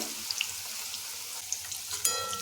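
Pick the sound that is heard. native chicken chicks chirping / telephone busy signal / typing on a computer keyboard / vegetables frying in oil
vegetables frying in oil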